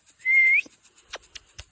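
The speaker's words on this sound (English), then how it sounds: "I can't whistle." A person whistles a single sustained note to call horses in on a farm, clear and fairly loud for about half a second, followed by a few faint clicks and rustles.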